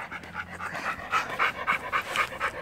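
A year-old Alaskan Malamute pants rapidly and rhythmically right up close, a steady run of breathy huffs with no talking over it.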